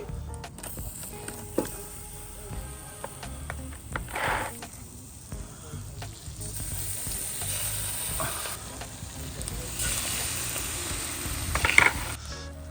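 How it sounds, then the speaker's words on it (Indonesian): Marinated chicken sizzles on a grill, with a steady crackling hiss broken by occasional clicks and scrapes as the pieces are turned, fairly close and moderately loud. "Sekarang kita bakar lagi."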